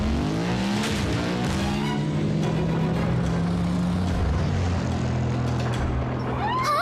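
Cartoon vehicle that has transformed into a motorcycle, its engine roaring continuously with rising and falling pitch and squealing tires, loud and steady over an action soundtrack.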